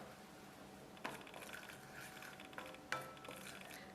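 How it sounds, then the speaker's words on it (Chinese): Flour poured gradually into a yeast, sugar and water mixture while being stirred in a bowl, giving soft scraping with a few sharp utensil clinks against the bowl. "边倒边搅"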